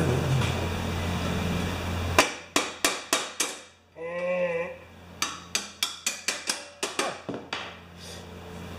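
Sharp, ringing hammer strikes in two quick series, roughly a dozen blows in steady rhythm, broken by a brief squeaky scraping sound in between.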